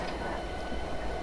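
A diesel SD70 locomotive idles in the Train Simulator Classic game on the Alaska Railroad, a steady dense rumble holding even and loud with no breaks.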